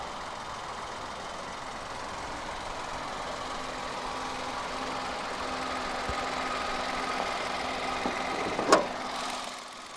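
A 2015 Kia Picanto's 1.0-litre naturally aspirated inline-3 petrol engine idles steadily at a low hum, with a faint knocking vibration and a brief sharp rattle near the end.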